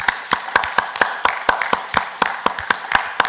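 A congregation claps in steady rhythm during an early-morning church worship service, about a dozen sharp, even claps in a little over three seconds, with no talking.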